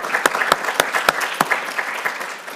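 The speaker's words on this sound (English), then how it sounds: "Just a quick round of applause for them." Seated audience at a Princeton faculty and graduate student research pitch event gives brief applause, close dense clapping with a few sharp standout claps, steady throughout.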